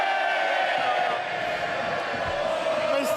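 MPs in the House of Commons raising a loud, sustained crowd roar of cheering and shouting, a dense wall of voices that holds steady throughout.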